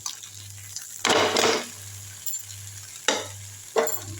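Tandoori seer fish, about three-quarters of a kilo, frying in oil and being flipped, with three loud bursts of sizzling spatter over a steady low hum and quieter crackling between them.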